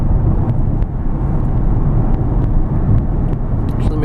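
A 2002 Ford Taurus SE cruising at over 50 mph: a steady loud road and engine rumble with tyre roar and wind, heard from inside the car, continuous with a few faint clicks.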